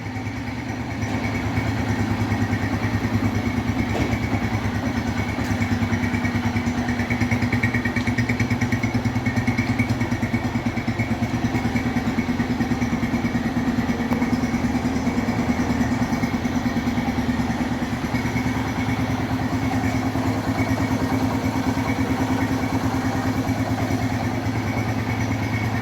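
A 2011 Honda Fan 125 motorcycle engine idles close by with a steady, even throb and a faint mechanical clatter running underneath, unchanging for the whole stretch with no voices.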